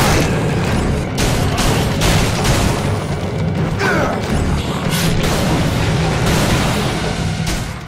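The Boner gun fires again and again at demons in the video game Shadows of the Damned, giving loud, dense, rapid bursts of booming shots over a busy mechanical game din.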